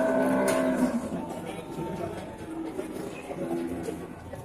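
Simmental and Limousin calves at a busy cattle market, with several moos and lowing calls over crowd murmur and faint cooing birds.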